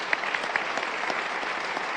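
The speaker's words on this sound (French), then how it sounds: "On peut applaudir Luc Ferry qui nous a offert ce premier regard." An audience applauds Luc Ferry at a conference on artificial intelligence and technological progress, a steady wash of many hands clapping with no pauses.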